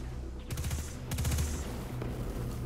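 Gunfire rakes Vex constructs in the video game Destiny 2, played on PS4 during the pre-order beta strike: two close bursts of rapid automatic shots over a low, steady game soundscape.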